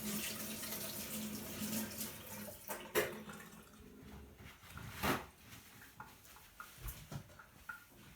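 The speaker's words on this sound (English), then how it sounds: "I'll wash my hands again" Tap water runs steadily into a kitchen sink while hands are washed between steps of making mini gozleme flatbread, a continuous splashing hiss broken by a few louder splashes and knocks.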